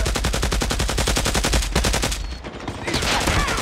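Rapid automatic gunfire rattles loud and close in a multiplayer shooter video game, a dense steady stream of shots with a short break and then more bursts, with no voices.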